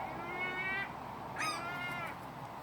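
Magpies calling outdoors, two harsh chattering calls in quick succession, fairly faint against a steady background hiss.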